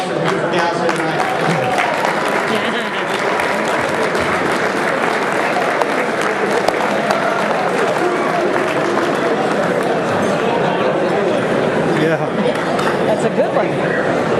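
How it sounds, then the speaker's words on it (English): A crowd at a USMC ball claps loudly and steadily throughout, with cheering and chatter mixed into the sustained applause. "join me in a round of applause for the beautiful gals here tonight."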